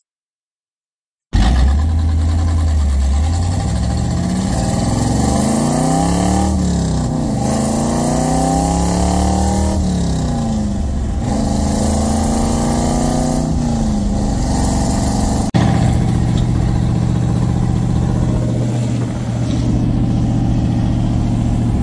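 A vintage car at the Macungie Wheels of Time show pulls away and accelerates through several gear changes, its engine revving up and easing off again. The engine is loud and close and runs steadily throughout the ride.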